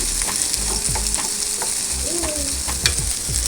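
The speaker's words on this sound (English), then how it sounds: "I'll first of all fry the carrot to be a bit softer" Carrot frying in a pan for a chicken curry sauce, a loud continuous sizzle with scraping stirs of a utensil against the pan, close up and without talk.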